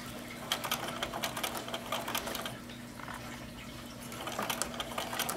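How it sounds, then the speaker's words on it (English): A sewing machine stitches around a fabric potholder in quick rattling bursts with short pauses between runs, under a faint steady hum. "I'm going to stitch all the way around"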